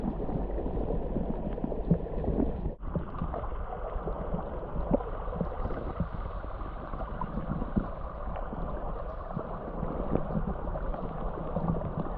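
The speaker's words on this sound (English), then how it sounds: "This is a very interesting waterfall." A waterfall on a hiking trail near Mount Marshall in the Adirondack High Peaks pours continuously, a soft, even rushing and gurgling of water that stays at a low, steady level throughout with no voices.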